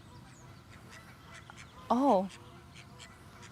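A single short honking call from a goose in a park, loud and fairly near, rising briefly above a soft outdoor background with a murmuring voice.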